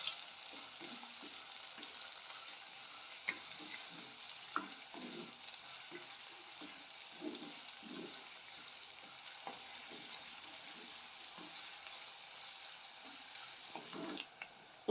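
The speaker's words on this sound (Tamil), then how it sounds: "கூடவே 2 பச்சை மிளகாவும் இது போல் கட் பண்ணி சேர்த்து வதக்கிக்கோங்க" Onions and green chillies sauté in oil for a Tamil fish curry, a steady soft sizzle broken by the scrape and clink of a stirring spoon, close and moderately quiet, with no voices.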